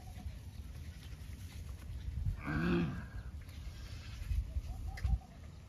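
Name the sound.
cow on a village farm at milking time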